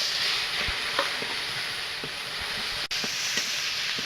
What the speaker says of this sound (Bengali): তেলটা গরম হয়ে গেছে, আমি পেঁয়াজ রসুন দিয়ে দেব বাটা।